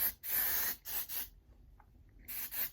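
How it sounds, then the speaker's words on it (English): Texture spray misted onto hair in a few close, loud hissing bursts, two long sprays then a pause and two shorter ones. "let me just get my texture spray"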